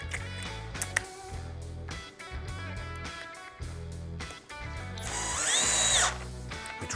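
A power drill whirs in repeated short bursts, then runs longer and strains as it drives a screw, close and fairly loud.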